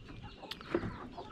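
A chicken gives a single soft cluck inside a coop, faint and brief against a quiet background.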